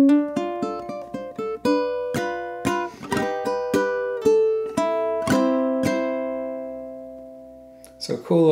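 Ukulele picks out a phrase of a waltz: a run of bright plucked notes in waltz rhythm, closing on a ringing chord that decays slowly, with a brief strum at the end.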